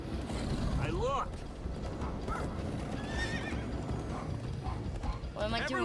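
Horses gallop with steady clip-clop hooves and whinny in the Minecraft: Story Mode video game, a continuous loud ride with a couple of sharp neighs and a voice briefly talking over it.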